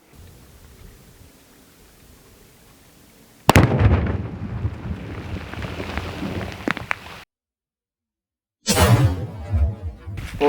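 A powerful explosive blast set off beside a Tisas 1911 pistol: a quiet outdoor lull, then a sudden loud boom with a long rumbling, crackling tail, a short silence, and another burst of loud rushing debris noise.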